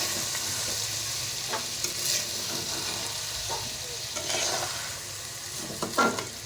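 Sweet zarda rice being stirred with sugar in a pot, a continuous soft hiss with intermittent scraping and clinking stir strokes, close and moderately loud, no talking.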